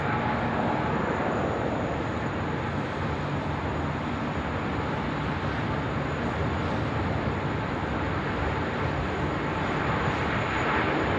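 Airliner taking off from runway 16 right at Sydney Airport in wet weather, a steady broad jet roar that stays loud and even throughout, with no talking.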